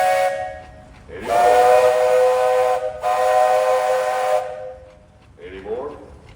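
A steam tractor whistle blows at a steam tractor parade with two long, loud, shrill blasts separated by a brief break, then a softer, shorter toot trailing off.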